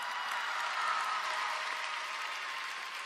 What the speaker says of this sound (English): Round of applause for Miss Whitmire, everybody